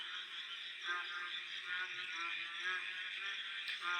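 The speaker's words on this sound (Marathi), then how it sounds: "तर हा आवाज आहे बेडकांचा, पावसाळ्यात येणारा बेडकांचा आवाज" A chorus of frogs croaks at night during the rainy season, a dense, continuous trilling drone at moderate volume with no pauses, heard from some distance.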